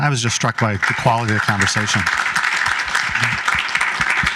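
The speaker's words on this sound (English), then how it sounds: "maybe we could have another round of applause for BLSA for organizing this event" A person speaks briefly, then an audience at a BLSA Martin Luther King Jr. commemoration breaks into sustained, fairly loud applause that continues evenly to the end.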